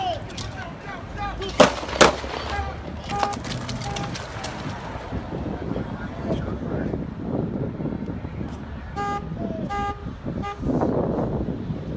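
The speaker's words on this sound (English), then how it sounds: "just witnessed somebody get shot here" Police gunfire during a carjacking confrontation in Phoenix, Arizona: a couple of sharp, loud cracks early on, then street noise with car horns and passing traffic, with people talking in the background.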